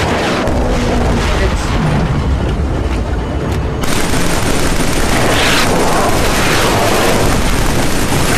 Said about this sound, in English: Oh, grenade again.